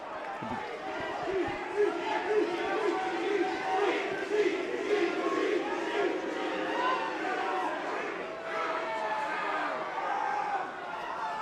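A football crowd at a Wrexham versus Guiseley match in 2017 jeers and whistles at a player, a broad surging roar of voices rising and falling across the stadium with a commentator talking over it.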